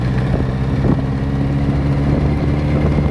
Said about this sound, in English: Like I got a little exhaust leak.